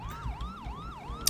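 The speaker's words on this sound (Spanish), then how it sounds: "no he puesto la sirena en español" Police car siren in the LSPDFR police game, a loud, close wailing tone rising and falling in a quick, regular cycle, about four sweeps, with no talk.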